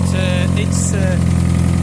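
A Toyota Prius NZ-FXE engine with a faulty exhaust connection idles loudly and evenly throughout, with a voice speaking briefly over the constant low drone.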